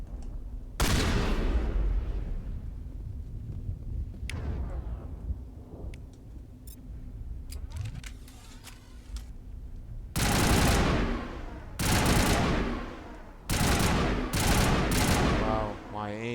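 Gunfire from weapons in Mass Effect Legendary: a sharp opening burst, scattered single shots, then several loud, dense volleys near the end, with a voice talking in places.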